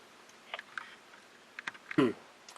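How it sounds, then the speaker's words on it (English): Clicking of the knob button on a Uniden 436 scanner: a few soft, close clicks scattered over a quiet background, with one louder click near the end. "I'm clicking counterclockwise to settings"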